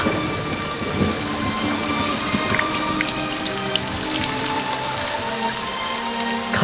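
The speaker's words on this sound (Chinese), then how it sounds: "下雨了，哈哈哈！" Heavy rain pours down in a steady, dense hiss of drops striking surfaces, with occasional low rumbles beneath. It is loud and continuous throughout, with no voices.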